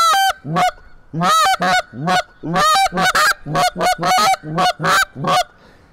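A hand-held goose call blown to imitate goose clucks gives a rapid series of sharp, loud honking clucks in an uneven rhythm, close and alone with no talk.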